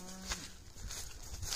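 A herd of thirsty cattle gathering to drink, with a brief moo near the start followed by a steady wash of outdoor noise and faint animal sounds.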